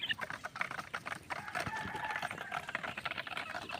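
A flock of two-month-old chicks cluck and cheep busily at feeding time, a faint, overlapping chatter of many birds close together.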